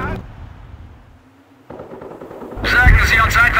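Gunfire in the World War II strategy game Company of Heroes, a muffled rattle of shots with a sudden loud burst of firing near the end, alongside game voices.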